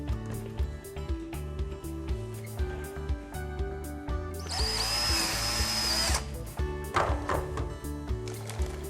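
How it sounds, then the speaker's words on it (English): A power drill whirs loudly for about two seconds, boring a 1/4 inch rivet hole through a metal air chute, amid clattering workshop noise and low rhythmic background sounds. "we're going to drill a 1/4 inch hole and put in"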